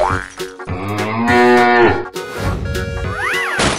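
A cow moos loudly and at length amid playful cartoon-style sound effects, with swooping, bouncing tones and no speech.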